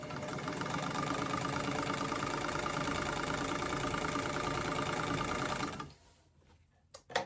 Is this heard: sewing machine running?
yes